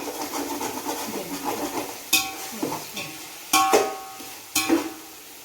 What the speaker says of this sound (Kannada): ಚೆನ್ನಾಗಿ ಮಿಕ್ಸ್ ಮಾಡ್ತಿದ್ವಿ